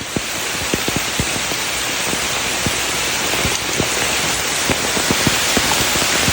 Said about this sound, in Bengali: প্রচুর পরিমাণে বৃষ্টি হয়